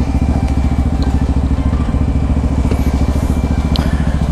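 Motorcycle engine running steadily and close, with a loud, even low-pitched thrum throughout and faint rattles on top, no talking.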